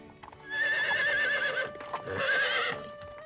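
A horse in a race neighs loudly in two long whinnies, the second after a brief pause, with faint background noise and no talk.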